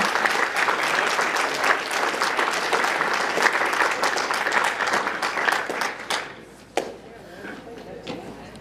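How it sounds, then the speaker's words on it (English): A crowd at a state Main Street awards ceremony claps steadily and fairly loudly for several seconds before the applause thins out and stops, leaving scattered claps and room noise. "let's have the young professionals come on up front and we'll give you a little clap"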